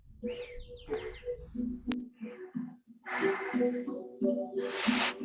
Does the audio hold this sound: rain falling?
no